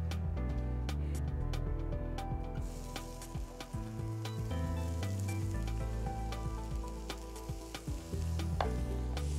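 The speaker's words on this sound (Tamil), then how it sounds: "ஸோ ஆயில் கொஞ்சம் ஹீட் ஆனோடனே இந்த மாதிரி சாப் ஃபைனாக சாப் பண்ண ஆனியன்," Finely chopped onion frying in hot oil for a paneer filling, a dense loud crackling sizzle that runs continuously, close, with stirring knocks and other kitchen sounds underneath.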